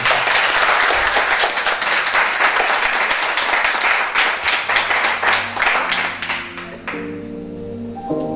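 Applause from a live music show audience fills the first seven seconds, dense and steady clapping near the microphone, then thins out as music with a bass line and sustained keyboard tones takes over.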